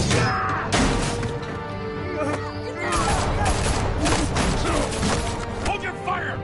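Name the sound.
gunfire in Batman: The Telltale Series video game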